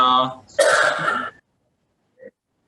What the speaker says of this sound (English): Fever she has, she's coughing a bit.